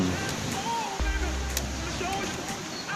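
Strong sea waves wash steadily onto Puka Beach in Boracay, a continuous rushing surf noise that stays fairly loud for the whole stretch, with a brief low thump near the middle.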